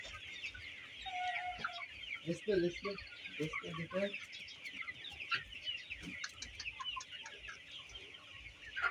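A flock of Sonali chickens on a poultry farm, clucking and chattering continuously at close range, with a few louder calls standing out from the busy background.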